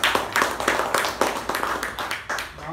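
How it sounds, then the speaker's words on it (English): Applause from a meeting audience, a steady patter of many hands clapping with rhythmic surges, fairly close and continuous throughout. "Can I have a huge round of applause?"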